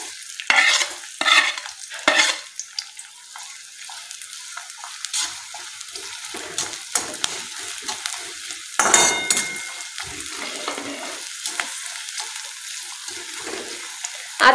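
Finely chopped onion dropped into hot oil in a kadhai for egg bhurji, a crackling sizzle with bursts of stirring and scraping, close and fairly loud, with no talk.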